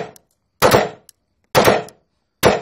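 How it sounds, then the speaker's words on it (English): Three sharp pistol shots ring out in a low light firearms training exercise, each a loud crack with a short decaying tail, spaced roughly a second apart with faint small knocks between them. "He's got a gun! He's firing!"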